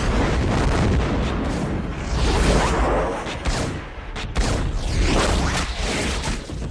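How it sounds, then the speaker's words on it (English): Dense, continuous burst of loud gunfire, many rapid shots overlapping into a sustained roar for several seconds. "Huge barrage of gunfire that we've all heard"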